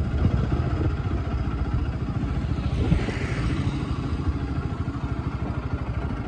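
Bajaj Pulsar RS 200 motorcycle rolling along very slowly, its engine giving a steady low, pulsing drone with a faint mechanical clatter, close and continuous with no talking.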